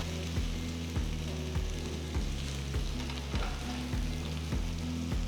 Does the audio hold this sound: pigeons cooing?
no